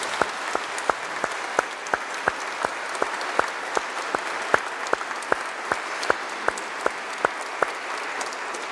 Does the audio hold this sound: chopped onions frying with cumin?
no